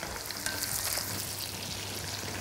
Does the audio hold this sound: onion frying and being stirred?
yes